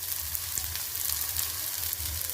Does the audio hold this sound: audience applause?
no